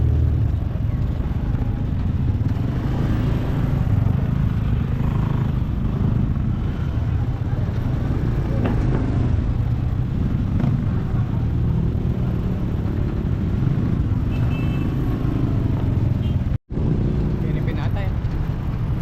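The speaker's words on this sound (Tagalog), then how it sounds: "Traffic din dito, traffic." Street traffic in Santo Domingo Village, a constant loud rumble of passing cars and engines with a steady low drone throughout.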